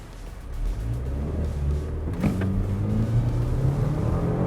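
A Range Rover Velar engine accelerates steadily, a low rising hum and rumble heard from inside the cabin, with a brief click midway and no talking.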